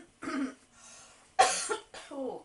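A person coughs and clears their throat several times in short, close bursts, with brief pauses between them.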